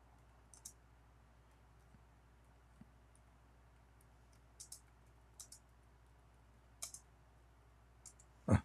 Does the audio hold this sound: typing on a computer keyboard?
yes